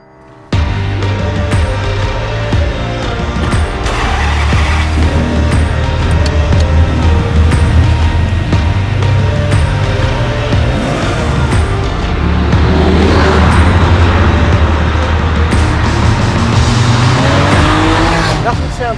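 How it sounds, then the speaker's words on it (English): A 2000 Ferrari 550 Maranello's V12 driven hard on the road, a loud, continuous engine roar heard from inside that swells as the revs rise and then settles, with faint voice over the engine. "Nothing sounds quite like a Ferrari V12."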